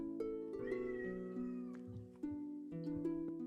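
A cat meows in a drawn-out, wavering tone over a steady layer of background music, with a few shorter vocal rises following, fairly close and moderately loud.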